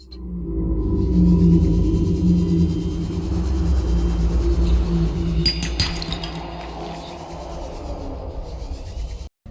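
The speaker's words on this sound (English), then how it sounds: "Large wails, roars and cries can be heard." Deep, rumbling wails and low roars from a large sea creature swell through the ocean ambience of Subnautica, distant and sustained, with faint metallic clinks and no talking.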